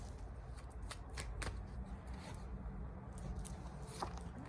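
Oracle animal cards being shuffled by hand, a soft continuous riffling and sliding of card stock with small crisp flicks, close and quiet.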